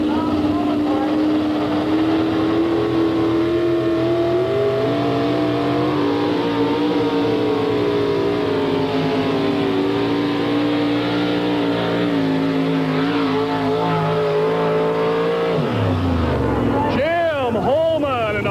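A 1992 Chevrolet four-wheel-drive pulling truck roars at full throttle down a truck-pull track in Chapel Hill, Tennessee, a loud sustained engine howl that shifts pitch as it pulls, then drops off and revs again near the end, with an announcer talking over it.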